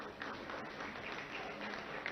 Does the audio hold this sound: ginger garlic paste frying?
no